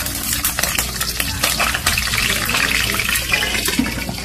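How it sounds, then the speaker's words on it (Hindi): Green chilies fry in hot oil on a medium flame, producing a loud, dense, crackling sizzle that runs continuously with irregular spits and pops. "थोड़ा सा मिर्च फ्राई करना।"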